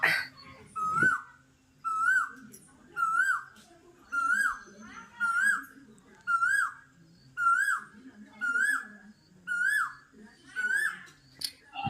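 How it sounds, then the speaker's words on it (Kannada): An Asian koel calls repeatedly in a village, its rising whistled notes coming in a steady rhythm about once a second, clear and fairly close against a quiet background. "ಕೋಗಿಲೆಯ ಸುಮಧುರವಾದ ಇಂಪಾದ ಧ್ವನಿಯನ್ನ ಕೇಳಿದ್ರ ಸ್ನೇಹಿತರೆ"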